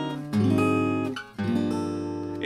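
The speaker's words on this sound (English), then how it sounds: "There's your A, note above, note below, land on the A." A guitar plays a short jazz enclosure phrase, chromatic approach notes above and below that resolve onto a sustained A. The plucked notes ring clearly and close, with no talk.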